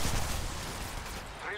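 Gunfire in the mobile battle royale game Apex Legends Mobile, a dense, rapid volley of shots that fills the short span at close range, mixed with in-game voice chatter.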